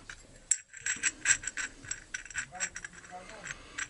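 Small metal parts of a Husqvarna 137/142 chainsaw clink and tick against each other close up as the clutch and sprocket are removed, with scattered light scraping and rattling over a few seconds.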